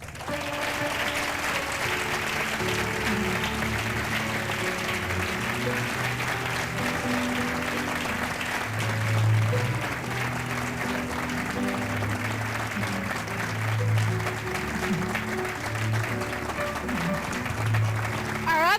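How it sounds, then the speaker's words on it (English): Sustained applause from an awards banquet audience honoring a winner, a steady dense patter of clapping lasting the whole stretch, with a low hum and faint murmurs beneath. "it's a long round of applause there, young lady"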